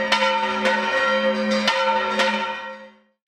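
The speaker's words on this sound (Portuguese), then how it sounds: "Os sinos da catedral anunciam que na quinta-feira termina a quaresma" Cathedral church bells ring out during Holy Week, several loud, clear strikes about half a second apart, their rich tones overlapping and sustaining before fading away near the end.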